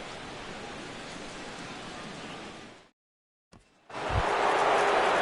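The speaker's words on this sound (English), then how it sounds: "Rain continues to fall here in the 6th" Steady rain hisses over a baseball game in MLB The Show 17, a broad even wash that cuts out briefly into silence and then returns louder.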